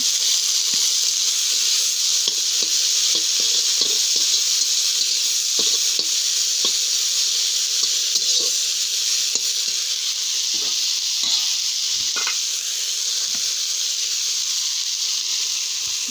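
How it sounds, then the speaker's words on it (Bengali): Fritters (bora) fry in hot oil, a loud continuous bright sizzle with small crackles and pops throughout, close and unbroken with no voices. "দেখছেন আমার বড়াটা ভাজা হয়ে গেছে"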